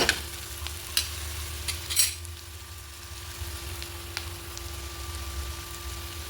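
Onions frying in a pan until browned, a soft continuous sizzle with a few sharp clicks and scrapes of stirring near the start, fairly quiet and close, with no voices.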